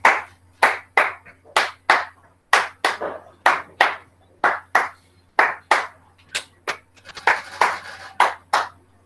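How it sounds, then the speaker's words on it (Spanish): Loud, close hand claps in a steady rhythm, roughly one or two per second, with brief pauses and a few quicker clusters; no talking. "Estoy aplaudiendo."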